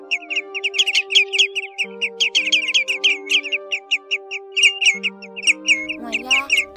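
Greenshank and grey-headed sandpiper calls play as a recording, rapid repeated piping notes in quick bursts over steady electronic tones, loud and close.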